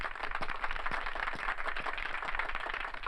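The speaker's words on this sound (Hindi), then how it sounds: "तालियां।" An audience claps and applauds in a steady, dense patter of many hands, moderately distant and fairly quiet, with no talking over it.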